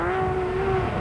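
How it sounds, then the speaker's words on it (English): Porsche rally car racing in the 1996 Roof of Africa off-road rally, its engine holding a loud, steady high-pitched drone close by with no voices. "But Borain put the Porsche to the post."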